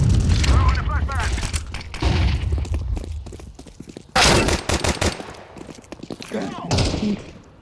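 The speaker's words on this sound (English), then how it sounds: "I'm throwing a grenade." Video game combat: a grenade blast and bursts of rapid gunfire crack and boom loudly in repeated volleys, with players talking over the action.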